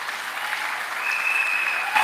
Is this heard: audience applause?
yes